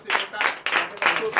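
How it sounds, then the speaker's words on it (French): At a church deliverance and prophecy night in Comé, Benin, a congregation claps and cheers in short loud surges, with voices mixed into the clapping. "je vous demande d'applaudir très fort"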